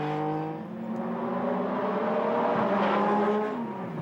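Porsche 911 GT3 RSR race car with its flat-six engine pulling hard on a track, a steady high-pitched roar with a slowly rising, sweeping tone, heard from a moderate distance.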